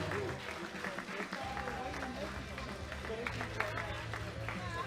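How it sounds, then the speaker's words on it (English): Moderate applause from the audience at a junior women's deadlift session of a world classic powerlifting championship, clapping spread evenly beneath a steady hum and some background voices. "big applause for this woman"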